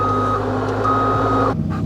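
A loader's backup alarm beeps steadily in a long continuous tone over a loud diesel engine rumble, cutting out near the end as the engine note drops.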